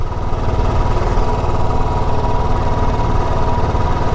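A motorcycle engine idles during a test, producing a loud, close, steady throbbing rumble that holds without change.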